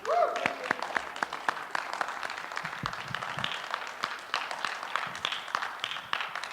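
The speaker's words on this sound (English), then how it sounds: "let's get a round of applause for President Cantwell" A university audience gives President Cantwell a round of applause, a steady patter of many hands clapping in a hall that continues for several seconds.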